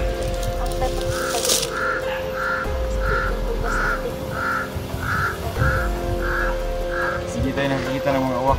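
Crows caw in a run of about ten regular, evenly spaced calls at middle distance, with more birds around and someone talking over them.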